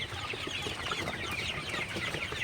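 Several Sonali chickens cluck softly and continuously nearby while eating crushed maize, overlapping murmurs and pecking with a dense background bustle, no talking.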